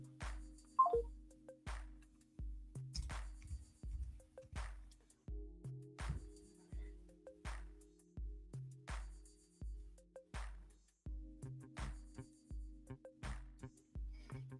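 Telephone keypad dialing tones play in a steady sequence of short, evenly spaced beeps over a faint hum, followed by a call-progress signal, with no one talking.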